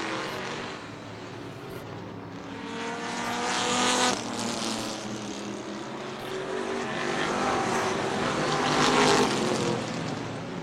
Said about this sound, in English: a couple of lap cars racing side by side